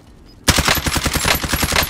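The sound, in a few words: gunfire in Call of Duty Warzone video game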